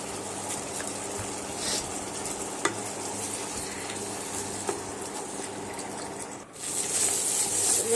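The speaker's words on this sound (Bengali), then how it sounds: "ভালো করে নাড়িয়ে চাড়িয়ে নিয়ে হয়ে এসেছে।" Sandwich filling frying and being stirred in a pan with soy sauce, chili sauce and ketchup, a steady close sizzle with a few scraping stirs and a brief dip near the end.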